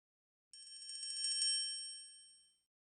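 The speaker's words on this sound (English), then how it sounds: "You hold the triangle from a piece of string, and you hit it with a beater so that the metal bar vibrates." A steel triangle struck once with a beater in the Lamb Chop Loves Music video game, giving a bright, shimmering metallic ring with a quick tremolo. The tone swells briefly, then fades away cleanly, alone and with no talk.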